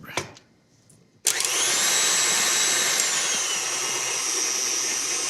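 Stand mixer kneading pizza dough in a home kitchen, made with salt, yeast mixture and oil; after a brief quiet start, the motor kicks in loudly at about one second and runs steadily with a high whine and no talk.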